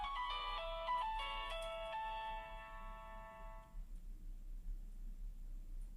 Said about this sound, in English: so that we can hear some ringtone